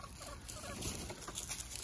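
Chickens in a backyard flock making a steady, close chorus of clucks and murmurs, with no talk.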